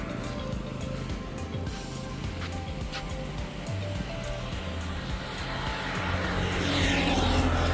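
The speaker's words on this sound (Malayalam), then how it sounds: "ഇതൊരു റിവറാണ്, ഗംഗാവലി റിവർ" The Gangavali river flows past in a steady, broad rush of water, with a low engine-like hum beneath it. The sound grows slightly louder toward the end.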